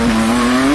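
A drag race car's engine screams at a quarter-mile drag strip, a loud, sustained, steadily rising tone filling the short moment without a break.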